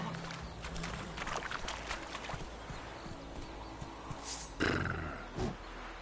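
A horse galloping in the video game The Witcher 3: Wild Hunt, a steady rhythmic clip-clop of hooves with jingling tack, moderately close, with a brief louder snort or whinny near the end.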